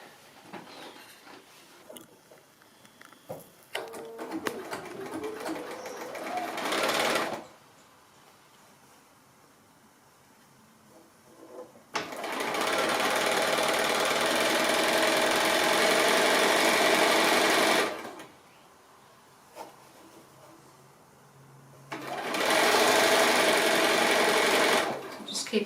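A sewing machine joins strips of hexagon patchwork in three long runs of steady mechanical whirring, separated by quieter pauses with soft handling sounds, close by.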